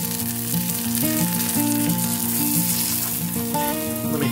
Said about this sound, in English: Checking our sizzle there.